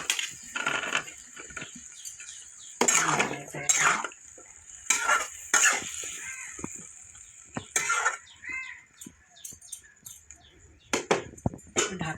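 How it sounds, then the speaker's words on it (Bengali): Okra tipped into a pan for mustard okra paturi and stirred, giving close, intermittent clatters and scrapes of a spatula against metal at an uneven rhythm, with no voices. "আমি ভেন্ডি দিয়ে দিলাম।"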